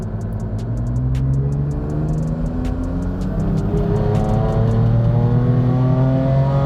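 A heavily modified BMW M3 F80 chasing 1,000 horsepower revs hard on a dyno, its engine note climbing steadily through the gears, loud and close, with rapid ticking and chattering over the rising drone.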